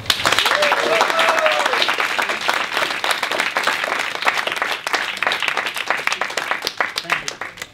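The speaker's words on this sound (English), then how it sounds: "I would like to give a big round of applause to you guys and Isaac." Audience at a public speaking workshop breaks into loud, dense applause that carries through the whole stretch, gradually thinning toward the end, with brief talk mixed in.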